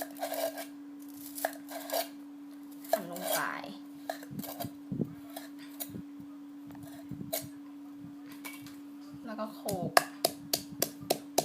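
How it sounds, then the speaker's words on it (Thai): A knife taps sharply on a cutting board in a quick run of chops through coriander root near the end, after scattered kitchen clatter, with someone talking throughout. "รากผักชีนี้เราหั่น"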